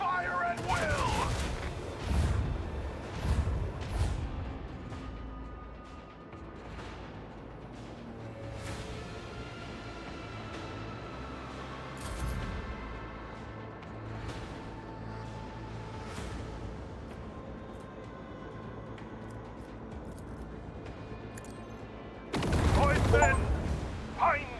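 Gunfire in Warhammer 40,000: Rogue Trader: scattered shots and short bursts crack through a busy battle soundscape, with a loud volley at the start and another near the end, while voices talk in between.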